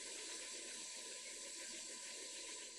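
Water runs steadily into a hotel sink as clothes are hand-washed in hot water, a continuous close hiss and splash without pauses.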